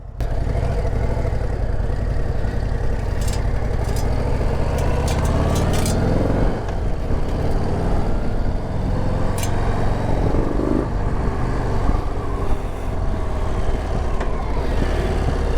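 A 2025 Harley Davidson Low Rider ST with a standard pipe rumbles along on a ride, its engine a loud continuous low drone mixed with wind rush, steady throughout.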